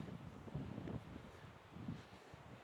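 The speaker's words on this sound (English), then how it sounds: "It's a little windy up here." Steady wind buffets the microphone on an outdoor deck at an off-grid A-frame hunting lodge near Mt St Helens, a continuous low rumble with gusts swelling and easing, no voices.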